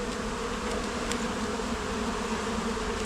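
A steady, close swarm-like drone of honey bees rises from an open poly nuc hive during an inspection, with a few sharper passes of individual bees over the constant hum and no talking.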